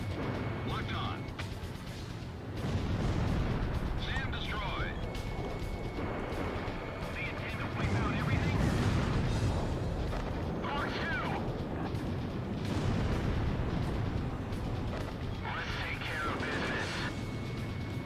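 A SAM site blown up in the combat flight game Ace Combat Zero gives a loud, sustained rumbling blast with crackling debris. Continuous engine roar and radio chatter run underneath throughout.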